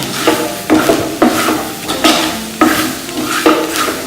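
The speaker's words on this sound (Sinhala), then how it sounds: "අඩු කරලා මේක හොඳට හඳුනනවා" Rose apple curry is stir-fried in a pan over low heat, with a rhythmic run of spoon scrapes and clacks about every half second over a close, steady sizzle.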